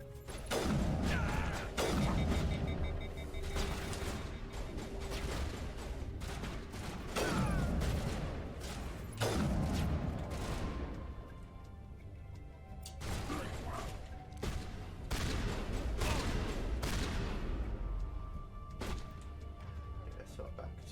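Sniper rifle fire in Mass Effect Legendary Edition cracks out in several loud, sharp shots spaced a few seconds apart, with mechanical clacks and echoing tails, over game ambience.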